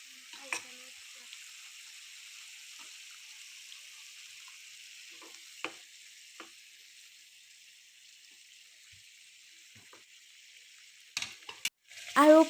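A hot pan holding fried fish gives off a low, steady sizzle after water is added, faint and even, with a few scattered clinks and a louder clatter of utensils near the end.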